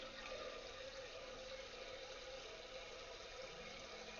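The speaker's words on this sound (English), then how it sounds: "I'm gonna get my water in my pot that I'm gonna make my noodles in" Tap water runs steadily into a pot, a faint continuous hissing pour with a slight shift in tone near the end.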